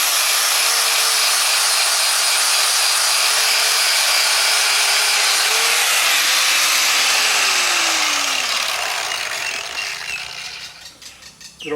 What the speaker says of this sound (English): Good old flap disc.